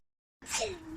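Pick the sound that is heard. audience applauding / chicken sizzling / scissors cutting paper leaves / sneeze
sneeze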